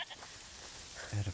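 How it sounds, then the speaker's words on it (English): A goat bleats briefly near the end in the video game A Plague Tale: Requiem, a low nasal call rising over quiet game ambience, with no talk over it. "Listen, is that the goat he talked about?"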